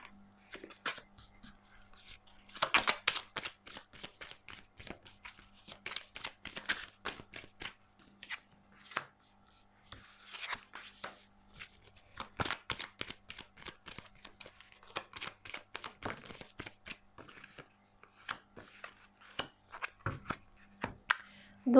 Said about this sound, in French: Pourriez-vous faire sauter les cartes s'il vous plaît?